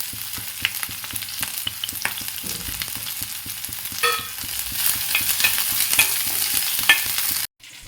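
Finely chopped ginger and green chili fry in a hot pan with a steady, dense sizzle and crackle, punctuated by faint stirring scrapes, then cutting off abruptly at the end.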